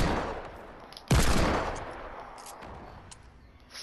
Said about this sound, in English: Oh, I just got shot